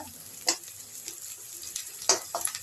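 Onions frying in a pan for a lotus stem stir-fry, giving a steady soft sizzle with a few louder crackles and stirring scrapes.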